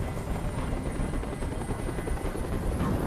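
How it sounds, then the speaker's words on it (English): A video game helicopter flies overhead with a loud, continuous rotor thrum and engine roar that holds steady for a few seconds with no speech. "Tell that helicopter to get out of here."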